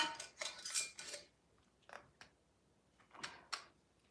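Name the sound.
putting a lid on a jar of apple cider vinegar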